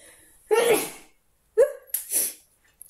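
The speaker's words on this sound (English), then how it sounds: "Yeah, I have to sneeze again." Two sharp sneezes a second apart, close and loud, the second followed by a quick breathy exhale.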